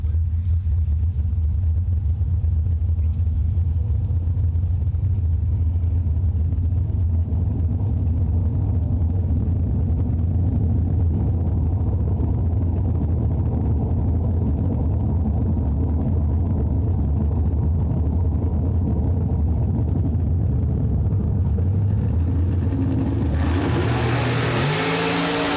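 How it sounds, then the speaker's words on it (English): A dragster and a little roadster race at an old school bracket drag race, engines roaring loud and continuous, with a sharp rising rev near the end. "Thompson dialed in a 530, a little roadster. He'll be taking on Mr. Billy Downing. Billy in the dragster dialed 486 in the All Things Chrome ride."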